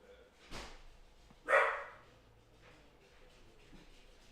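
A dog shut in another room gives two muffled, distant barks, a short one followed by a louder one, then quiet room background.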